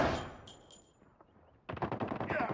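Gunfire from the XPR-50 in a Call of Duty Mobile multiplayer match, with a faint high tone fading out before a sudden loud run of rapid shots near the end.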